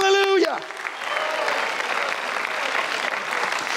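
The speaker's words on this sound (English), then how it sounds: "clap your hands in here" Congregation clapping hands during a church service, a broad steady burst of applause filling the room for several seconds after a brief sung or spoken tone at the start.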